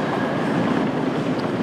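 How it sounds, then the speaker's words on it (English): A CrossCountry class 170 Turbostar diesel unit arriving at Nottingham station gives a loud, steady rumble of engine and wheels, close and unbroken. "This is coming in now, is a cross country one, class 170 Turbo Star from Cardiff Central"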